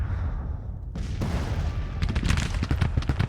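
Artillery and rifle fire in the Civil War strategy game Grand Tactician, a dense run of overlapping booms and crackling shots building over a few seconds, loud and rolling with no voices.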